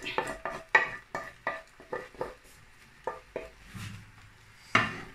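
A utensil repeatedly scrapes and knocks against a pan while pasta is stirred into a leek and bacon sauce, giving a run of close, irregular clinks and scrapes with a faint sizzle beneath.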